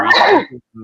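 One sharp, loud sneeze bursts out close to the microphone during a wrestling predictions chat, followed by a short trailing breath and a brief voiced sound.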